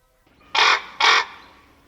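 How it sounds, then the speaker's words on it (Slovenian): A raven gives two loud, harsh caws close by, each about a quarter second long, separated by a short pause, with no other sounds around them. "Krokar, moj stražar me kliče."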